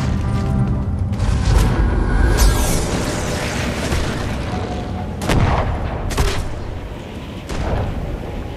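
Video game gunfire and booms keep up a dense, loud stream of shots and blasts, with sharper reports standing out near the end.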